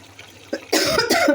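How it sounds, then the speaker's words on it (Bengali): A person coughs hard twice in a row, up close, while cooking with pungent mustard oil in a kitchen. "রান্না করতে গেলে খালি কাশি আসে।"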